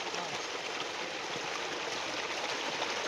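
Water flows out across a farm field in a continuous rushing stream, a steady broad wash of sound with no distinct breaks.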